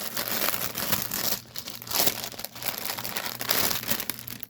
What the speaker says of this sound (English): It does come packaged in a plastic bag with the size and the product number.